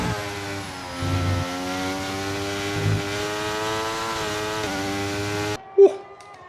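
F1 24 car engine in the F1 23 racing game screams at full throttle, a loud sustained whine that rises with gear changes, then cuts off abruptly into near silence with one short thump.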